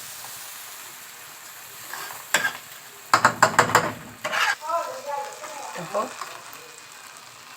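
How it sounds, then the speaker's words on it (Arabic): Rice and vermicelli are stirred and fried together in a pot until toasted. Bursts of scraping and clattering come close together, then ease into a soft sizzle, with a brief spoken word partway through. "سيبنا بقى الرز يتشمع مع الشعريه كده بتاع دقيقتين احنا بنقلب."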